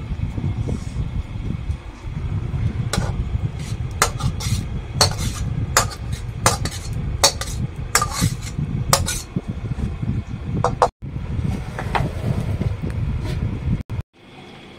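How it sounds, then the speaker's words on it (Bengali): Cooked khichdi is scraped out of a pot onto a plate, producing a run of sharp, repeated metallic scrapes and clinks up close over a low rumbling background, with no speech. "খিচুড়ি তো হয়েই গেছে, এবার এই থালার মধ্যে ঢেলে দেবো।"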